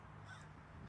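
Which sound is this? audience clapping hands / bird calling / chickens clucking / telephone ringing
bird calling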